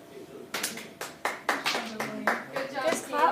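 A classroom of students claps in unison, about nine sharp, evenly spaced claps in a steady rhythm, close and fairly loud, with a few voices chattering underneath.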